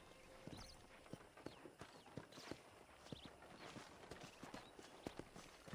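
Horse hooves clip-clop at a steady walking pace on a ranch in Red Dead Redemption, crisp individual strikes at moderate distance over a faint ambient bed, with no talk.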